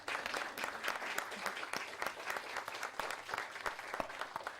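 Steady applause from an audience at a women-in-politics roundtable, honoring the Institute of Governmental Studies, dense clapping held at an even level throughout with no voices over it.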